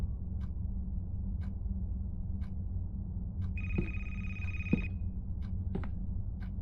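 A telephone rings once in a horror video game (A Place Forbidden): a bright, steady electronic ring lasting about a second, set against a low ambient drone with scattered soft clicks and thumps.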